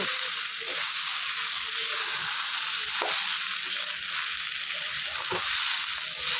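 Flat bean and potato curry fries under a lid in a pan, giving a steady close sizzle that runs throughout, with a couple of faint clicks and no talking.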